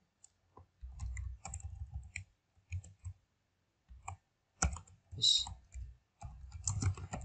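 Computer mouse clicks come in short scattered bursts, including a right-click to create a new folder, heard close and quiet with a person talking between and over them.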